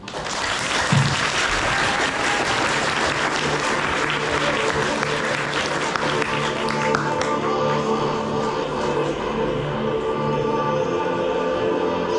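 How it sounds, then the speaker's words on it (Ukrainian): An audience claps loud, dense applause in a hall for a student group taking the stage, sustained and even for about twelve seconds. "Зустрічаємо оплесками."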